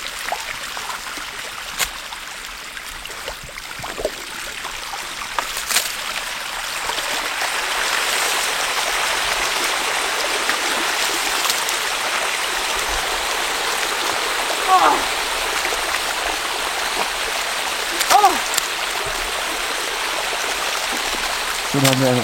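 A stream flowing steadily, a continuous broad rushing of water that swells after the first few seconds, with a few faint knocks and a voice now and then.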